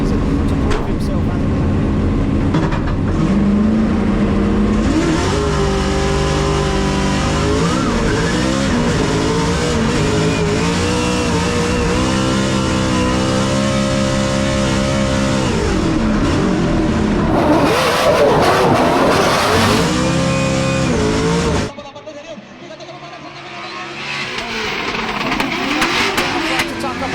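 Drift cars come off the line in a Drift Masters battle, including an RTR Mustang. Engines rev hard and loud with rising whines under an excited commentator's voice, then the sound drops off abruptly.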